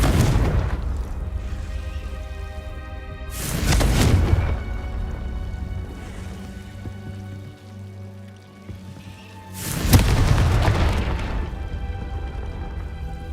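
Confringo fire spell blasts in Hogwarts Legacy, two loud booming explosions several seconds apart, each with a rumbling decay, over a low game ambience.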